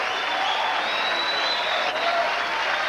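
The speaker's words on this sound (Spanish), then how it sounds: "el público ya estaba aplaudiendo esta volea" Tennis crowd applauding a volley, a dense, sustained wash of clapping from a large audience at steady volume throughout, with no voices standing out.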